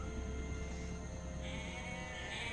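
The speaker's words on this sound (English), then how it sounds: "That goat is swimming." A goat in the Jurassic Park: Operation Genesis video game bleats in a couple of nasal, wavering calls over a steady ambient game hum, moderately loud with no talking.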